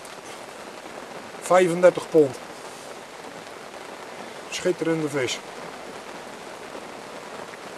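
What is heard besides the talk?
rain falling during night fishing at a lake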